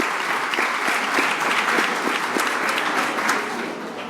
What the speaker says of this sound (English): let's clap him out of the room one more time.